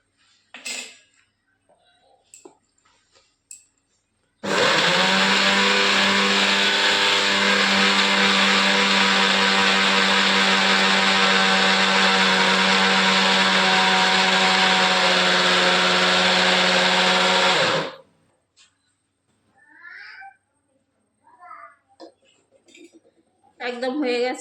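An electric mixer grinder pulverises flaxseed into powder, a loud steady whirring motor drone running for about thirteen seconds before cutting off, with speech and light kitchen clatter before and after.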